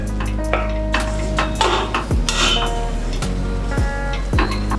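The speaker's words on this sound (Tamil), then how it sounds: "எல்லாத்தையும் ஒன்றா போட்டு மிக்ஸ் பண்ணுங்க" Vegetable biryani ingredients stirred and mixed in a pot, with scraping utensil strokes against the metal and soft clinks repeating over a steady background hum, close and moderately loud, no talking.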